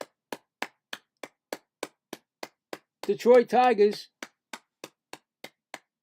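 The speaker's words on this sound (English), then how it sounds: "Everybody's clapping now." Steady rhythmic clapping from the crowd at a Mets–Detroit Tigers baseball game, with even beats about three per second that are crisp and near. Someone talks over the clapping briefly partway through.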